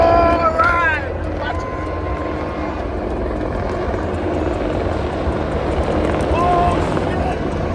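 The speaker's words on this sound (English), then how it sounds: "definitely the Apache attack helicopter is iconic" An Apache attack helicopter's rotor and engine noise rumbles steadily in the distance at a US Army parade in Washington DC, with people talking over it.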